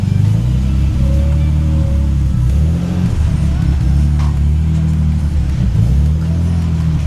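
A Nissan 300ZX drives off, its engine loud and close, shifting through rising and falling tones as it pulls away, with a steady rumble underneath.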